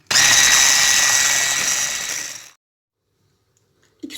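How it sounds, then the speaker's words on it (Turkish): An electric mixer whisks cake batter after milk is added, giving a loud steady whirring hum for about two and a half seconds that then stops abruptly, followed by near silence and a faint knock. "Ve 1-2 saniye kadar gene çırpacağım."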